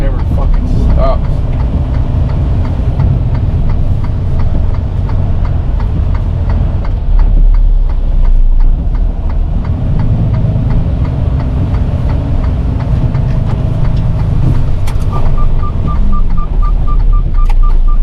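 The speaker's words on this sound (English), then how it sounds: "This traffic never fucking stops." Road traffic rolls past a truck waiting to back into a driveway on a rainy day, with a continuous low engine rumble and passing vehicles swelling and fading, and a faint ticking signal near the end.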